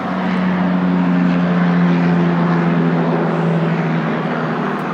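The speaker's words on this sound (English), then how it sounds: "there's a helicopter flying over" A helicopter flies overhead, its steady low rotor and engine drone filling the whole stretch loud and continuous, with no talk over it.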